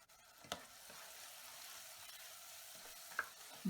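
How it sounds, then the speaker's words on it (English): Tomato, egg and potato sizzle in a frying pan with a steady, soft hiss, broken by a few sharp clinks of a utensil stirring against the pan. "I added the tomato and I'll give it another quick fry for about 2 minutes."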